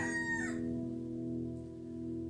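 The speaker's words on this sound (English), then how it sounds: "he obviously didn't go to cockerel school because they should crow in the morning" A neighbour's cockerel crowing, one close, strident call that rises and breaks off early, followed by a steady low background hum.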